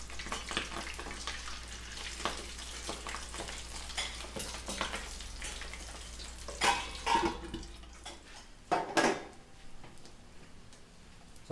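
Crispy pork pata deep frying in hot oil, a steady loud sizzle with crackling splatters and occasional clatter as the meat is turned, fading to quieter sizzling near the end.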